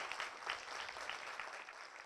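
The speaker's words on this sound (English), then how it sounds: "I'd love to see if we could have a round of applause just for all of the candidates coming out tonight" Applause from the audience at a 2018 Fresno school board candidate forum, a quiet, steady patter of clapping from a modest crowd that holds evenly for about two seconds.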